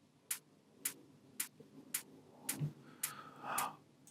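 Deep tech house hi-hats with a quarter-note delay: seven crisp, evenly spaced ticks, each trailed by soft echoes, with a faint low bass pulse underneath and no voices.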